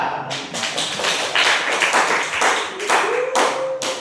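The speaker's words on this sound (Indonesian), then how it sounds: "Tepuk tangan semuanya." A classroom of students claps after a group finishes presenting during an Islamic creed and ethics teaching practice, a loud, close burst of many uneven hand claps lasting about four seconds.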